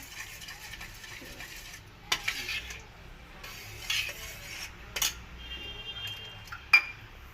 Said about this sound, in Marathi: थोडी अशी चमच्याने घोटून घ्यायची